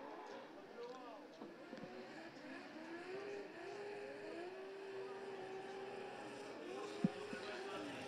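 Formula Drift cars racing through a corner at Okayama International Circuit, their engines revving and wailing in rising and falling tones, fairly faint and distant beneath a commentator talking.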